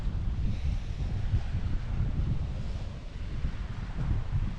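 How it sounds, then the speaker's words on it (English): Wind and rough sea off the coast of Norway in an area known for exceptional waves, a steady low roar of wind buffeting the microphone with surging water beneath, no voices. "definitely bigger waves than we had before we got here"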